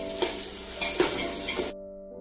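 Onions fry in oil for chicken pulao, a close, even sizzle broken by three stirring knocks, then it cuts off abruptly, leaving near silence.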